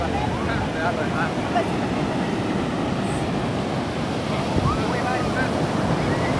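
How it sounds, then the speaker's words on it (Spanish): Ocean surf washing onto a beach in El Salvador, a constant broad roar of breaking and receding waves that stays loud and even throughout with no talk over it. "Anda disfrutando lo que es el mar, Estrellita"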